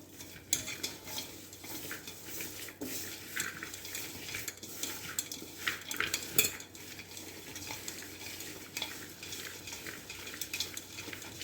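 Raw banana rotti dough being stirred and mixed with grated coconut in a bowl, soft irregular scraping and squelching with light utensil clinks, quiet and close, no talking.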